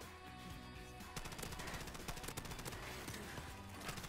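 Rapid automatic gunfire from Modern Warfare Remastered, a steady stream of sharp shots with fast bursts that intensify after the first second, fairly loud and continuous.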